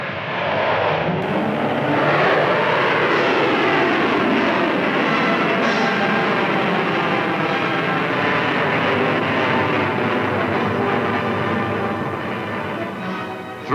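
A Pershing missile launches at Fort Wingate with a loud, sustained roaring rush that holds steady for many seconds and thins slightly near the end.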